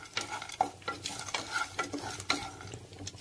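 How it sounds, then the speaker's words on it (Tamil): Fenugreek and spices dry-roasting in a pan without oil, repeated rhythmic scraping strokes of a spoon against the pan, about one every half second, close and quiet with a faint rustle of seeds. "ஆயில் சேர்க்காமலே ஹீட் பண்ணி ஃப்ரை பண்ணிடலாம்"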